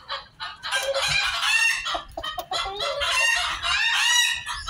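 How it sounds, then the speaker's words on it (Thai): Chickens bred as black-and-white crosses cluck and crow in a continuous, busy chorus throughout, close and fairly loud, with overlapping calls and no voices. "ส่วนในพวกมีงอนงอนนี่เป็นลูกผสมครับเป็นลูกครึ่ง ไก่ดำกับไก่ขาวครับ"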